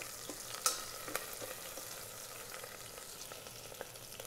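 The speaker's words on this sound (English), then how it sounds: "black pepper, cumin seed. Let it get fried for 30 seconds." Black pepper and cumin seeds frying in oil in an Instant Pot, a soft steady sizzle with occasional tiny pops and a light stir, quiet and close with no talking.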